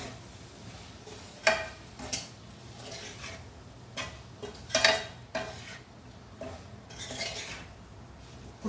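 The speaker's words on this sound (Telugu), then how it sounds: "ఇదంతా మంచిగా కలిపేసుకుందాం" A spoon knocks and scrapes against a pot while potato kurma is stirred, giving scattered metallic clinks with quiet stretches between them and no talk.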